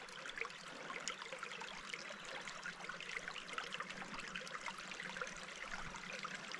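Mountain creek water trickles and gurgles continuously, a soft, even burble of small splashes heard close and fairly faint, with no voices.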